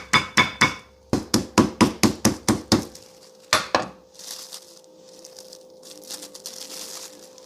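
Knurled meat mallet pounding pork cutlets thin on a board, a quick run of about ten sharp, close thuds with a pause, two more blows, then quieter handling noises.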